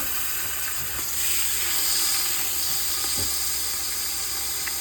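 Hot grease hisses steadily in a pan while beef is sautéed, a continuous close sizzle with faint occasional pops and clinks.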